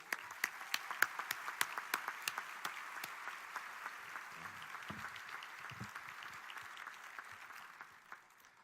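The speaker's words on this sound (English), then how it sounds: "So please help me give a round of applause for Mr." Audience at the 2014 Medal of Honor Patriot Gala applauding Gary Sinise, a steady roomful of clapping with sharp individual claps early on, slowly thinning and fading toward the end.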